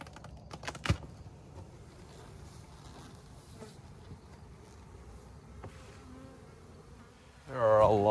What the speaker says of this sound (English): There are a lot of bees here.